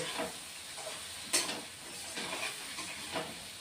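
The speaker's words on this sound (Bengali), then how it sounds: "লাল লঙ্কার গুঁড়ো দিয়ে দিচ্ছি দিয়ে এখন আর একটু কষে নেব" Spices with red chilli powder fry in a pan for a fish-head and kochur loti dish, a soft hiss and sizzle broken by a few brisk stirring scrapes, close but quiet.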